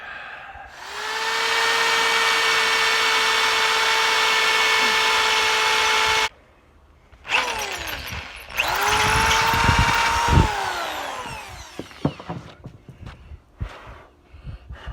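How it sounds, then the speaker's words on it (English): A power drill whines steadily for several seconds, stops, then grinds again with rising strain and scraping bursts as it bites through a metal Cat 60 engine manifold, close up. "So now I'm going to drill a hole through it to start out with"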